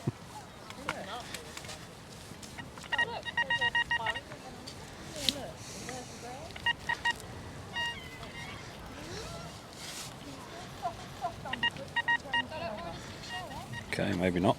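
XP Deus 2 metal detector on a beach giving short electronic beeping target tones in bursts, heard faintly under ongoing conversation and outdoor background noise.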